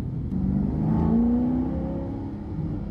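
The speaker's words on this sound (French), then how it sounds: "on entend direct, hein, dès qu'on passe 3000, les valves ouvrent" An Alfa Romeo 8C Competizione's naturally aspirated engine revs up hard past 3000 rpm as its exhaust valves open, pitch climbing over a couple of seconds, loud and close with a steady throaty rumble underneath.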